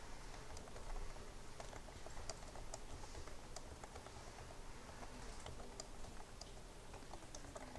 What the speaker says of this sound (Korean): 밑에 있는 거는 이제 타이핑을 쭉 해주시면 되겠죠